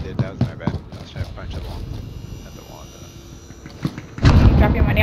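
A bomb blast in a multiplayer shooter game lands as a loud, sudden boom near the end, following a stretch of scattered gunfire thumps and clicks, with players talking over it.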